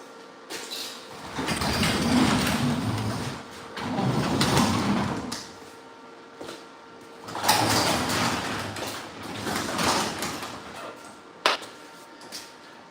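Doors slide and rumble open in a few separate bursts, each a rolling scrape followed by a rattle, with a sharp knock near the end.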